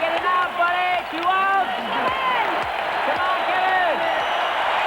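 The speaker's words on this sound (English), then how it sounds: "This is the most noise from this crowd all night." Baseball stadium crowd roars with sustained, dense cheering throughout, while an announcer talks over it in a 1991 game.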